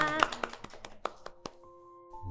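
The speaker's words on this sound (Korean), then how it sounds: "우리 바쁘신 와중에 정말 귀하신 시간 내주신 두 분을 박수로 보내드리겠습니다" Brief applause from a church Lenten radio prayer gathering, a short scatter of claps and taps in the first second and a half that quickly fades, followed by a sustained tone.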